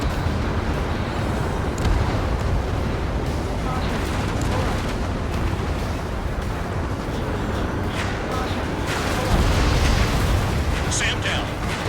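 Explosion of a SAM site in the Ace Combat 7 flight combat game: a dense, continuous roar of rumbling blasts and bursts that swells near the end, with faint voices mixed in.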